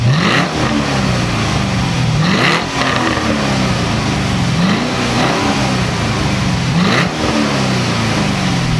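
A GM supercharged 6.2-liter LSA engine making 556 horsepower revs hard again and again, with loud rising sweeps roughly every two seconds over a steady, close-up throttle roar and no voices.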